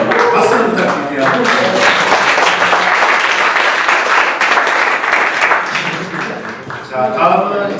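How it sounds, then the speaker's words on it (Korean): A startup pitch competition audience claps loudly and continuously after a team's final presentation, a thick, close burst of hands that tapers near the end as a voice comes in. "박수 부탁드릴게요."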